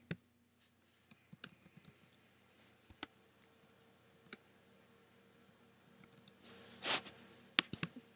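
Computer mouse clicks while navigating project tracking software: sparse, faint, isolated clicks spread over several seconds, with a slightly louder cluster near the end and no talking.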